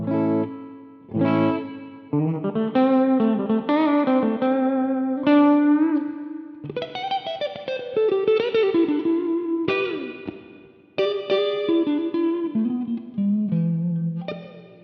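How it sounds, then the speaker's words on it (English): Electric guitar through a Donner Verb Square reverb pedal on an echoey setting: sustained chords and single notes ring out with a soft wash of reverb trailing after each, played alone in several phrases separated by brief pauses. "It's not as moist sounding as the spring, but it has a nice little echoey vibe."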